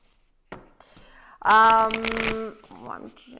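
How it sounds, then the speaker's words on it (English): Tarot cards riffle and shuffle with a quick papery burst near the microphone, while a person talks before and after. "It's not just the talking, it's the shuffling."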